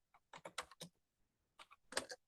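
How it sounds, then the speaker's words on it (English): Short bursts of typing on a computer keyboard, close and fairly quiet, with two clusters of rapid keystrokes separated by a brief pause. "So Kevin, I'm typing in the attorneys' names."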